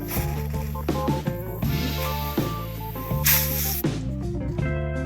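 A brief burst of aerosol contact cleaner spray hisses partway through, sprayed onto a faulty Honeywell thermostat, partly buried under steady background music.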